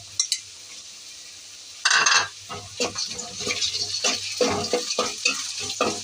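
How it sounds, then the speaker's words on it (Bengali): Chapa dried fish sizzles in a pan with onion, green chili and garlic, with stirring scrapes and light clinks of the utensil. Louder bursts of crackling come and go close by. "এখন আমি শুটকিটাও ভেজে নেব, চাপা শুটকিটা।"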